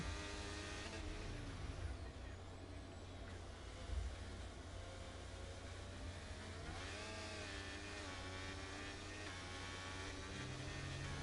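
An F1 car engine in the F1 23 game drones steadily through an onboard lap at Great Britain with an Alpine, a faint continuous whine that shifts pitch slightly as gears and revs change.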